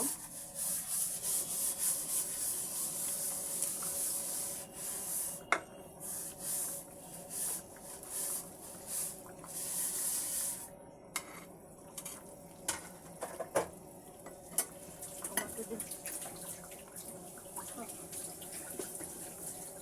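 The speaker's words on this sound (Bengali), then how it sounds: "এবার আমি ভাজা মাছগুলো দিয়ে দেব" Fried tengra fish being added to a potato and tomato curry in a pan, heard as soft scraping and rubbing with intermittent gentle sizzle bursts and clinks, fairly close and quiet.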